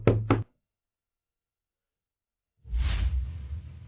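A quick double knock raps on a door up close, followed by a long silence and then a louder swishing thump.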